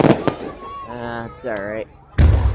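Fireworks burst over a downtown area in loud cracking blasts at the start and end, with voices talking between the explosions.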